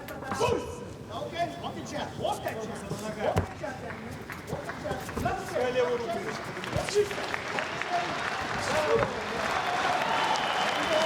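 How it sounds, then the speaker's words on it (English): Crowd at an MMA fight between Daniel Weichel and Artem Damkovsky reacting in the arena: a rising murmur with scattered shouts, whistles and claps building over several seconds, with a commentator talking over it. "And the crowd starts to react."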